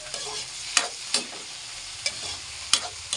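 Sliced tomatoes sizzle in a pan with onion and garlic, a steady hiss broken by a few sharp scrapes of stirring, close and moderately loud.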